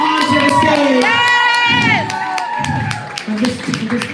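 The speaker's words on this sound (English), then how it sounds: "Give my incredible, incredible cast a round of applause." A crowd at a Coney Island New Year's fireworks show cheers, whoops and shouts for the cast, loud and close, with high excited voices, scattered clapping and bursts of yelling.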